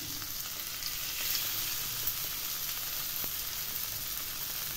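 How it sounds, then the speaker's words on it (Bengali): Chicken pieces fry in a little oil on a tawa, making a soft, steady sizzle heard close, with faint clicks from stirring and no talk. "এবার আস্তে আস্তে আমি এই মাংসের পিসগুলো এর উপরে দিয়ে দেব।"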